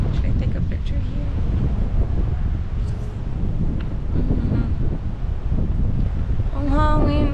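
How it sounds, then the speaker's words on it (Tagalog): Strong wind buffets the microphone on Boracay beach, a steady loud rumble running throughout, with people talking over it. "Ang hangin, oh my god."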